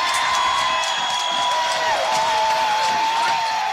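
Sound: crowd cheering as the third precinct burns

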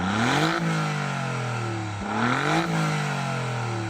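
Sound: Alfa Romeo engine revving to redline

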